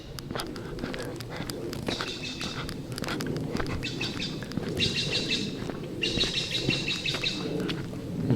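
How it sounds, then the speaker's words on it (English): Birds chirp and tweet in the distance along a hill trail at Windy Hill Preserve, with bright calls repeating in bursts over soft outdoor ambience and faint footsteps. "Birds happily chirping away in the distance."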